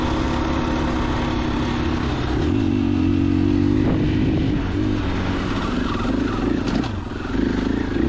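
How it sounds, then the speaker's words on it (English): A 2021 KTM 500 EXC-F dual-sport motorcycle ridden on foggy fire roads, its single-cylinder engine droning loudly and continuously from close by, pitch rising and falling gently with throttle changes under steady wind noise. "Just having a good time, riding my street bike."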